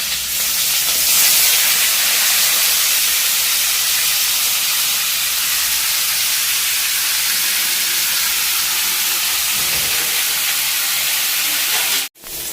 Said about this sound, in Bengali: ফুলকপি তো একটু হলুদ দিয়ে আমি ভেজে নিচ্ছি